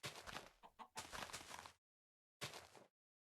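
Minecraft chicken clucks in short, close bursts: a cluster of quick clucks, a pause of silence, then one more brief cluck.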